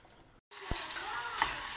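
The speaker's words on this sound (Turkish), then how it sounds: "İçi için soğanlarımı kavuruyorum." Onions sautéing in a pan for a spinach gözleme filling. A brief silence gives way to a steady, close sizzle with light stirring, holding evenly to the end.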